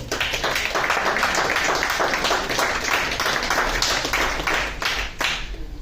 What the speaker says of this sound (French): je vais vous demander de vous applaudir